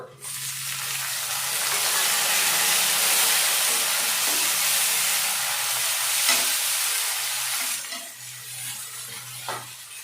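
Tomatoes frying with browned onions in a kadai, making a loud, continuous sizzle that swells and then eases toward the end, with faint low murmurs beneath.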